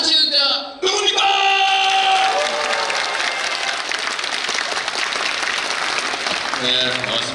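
A talk-concert crowd in Daegu breaks into loud, sustained applause after a brief voice, with scattered whoops and cheers in the mix, the clapping continuing steadily to the end.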